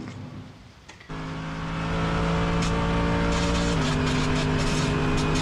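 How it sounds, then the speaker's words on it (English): Onboard a Mercedes-AMG GT3 race car lapping Phillip Island circuit, the engine jumps sharply to a loud, steady high-revving drone after a quieter opening second, close and continuous with a brief gear change. "Welcome aboard my Mercedes AMG GT3 car for a lap of Phillip Island."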